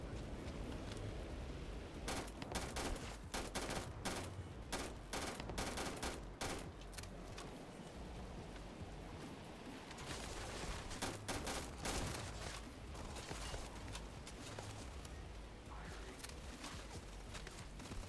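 Enemy gunfire in Starfield rattles in dense, repeated bursts of rapid shots, with volleys clustering near the start and middle and a steady combat din underneath throughout.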